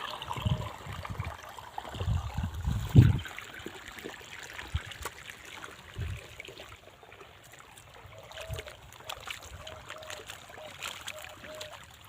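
Water trickles and flows in a small stream, a soft continuous gurgle with occasional louder splashes and faint voices in the background.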